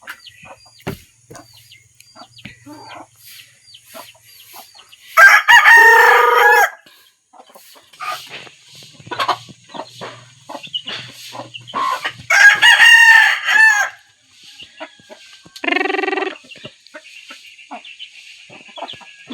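Two loud rooster crows ring out several seconds apart, with a third shorter call later, over scattered hen clucks and quiet farmyard background.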